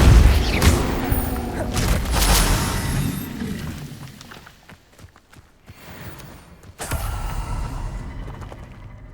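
Spells are cast in the video game Hogwarts Legacy: a dense run of booming bursts and crackling blasts that fades into a quieter stretch of thuds, then surges back loud.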